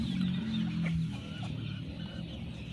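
Young gamefowl roosters around three months old clucking nearby, a few short throaty clucks over a low farmyard background, with no talk.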